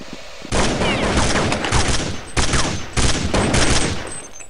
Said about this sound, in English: with this force by Kiko, at least able to pick up a nice little deagle headshot onto Swag.